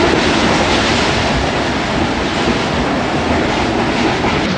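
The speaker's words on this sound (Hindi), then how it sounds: "कोट लखपत रेलवे स्टेशन पर पहुंच गई है ट्रेन" The 33UP Pak Business Express rolls into Kot Lakhpat station with a loud, continuous rumble and rhythmic clickety-clack of wheels on rails, close and unbroken throughout.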